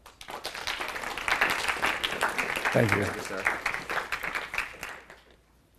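An audience at a school initiative presentation applauds to welcome Josh and the students, moderate clapping that swells and continues while someone briefly speaks over it.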